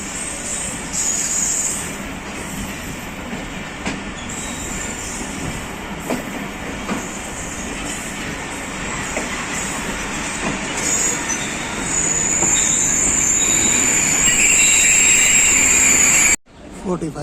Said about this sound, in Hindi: अब पाकिस्तान एक्सप्रेस सामने पहुंच रही है प्लेटफॉर्म नंबर 4 पर लाला मूसा में।